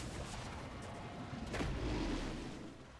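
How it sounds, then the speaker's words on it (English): A turret collapsing in League of Legends during a top-lane Illaoi versus Tahm Kench match, a dull rumbling boom that swells midway through the clip and then fades under constant game background noise. "Red team's turret has been destroyed."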